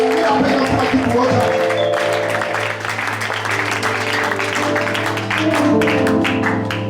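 Church congregation applauding and acclaiming Jesus during a French-language deliverance service, a sustained wash of clapping and cheering that runs steadily throughout over sustained musical tones.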